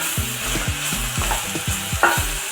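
Chopped ginger, garlic and green chillies fry in a pan with onions for a green chicken gravy, a constant close sizzle broken by regular scraping stirs of a spoon against the pan, no voices.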